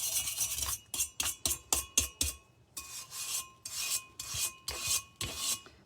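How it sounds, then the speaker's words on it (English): A cheap wire brush scrubs grime off a rustic oil lamp with a series of close, loud rasping strokes, quick at first and then slower and steadier, without any talk. "So this is just like a Dollar Tree wire brush."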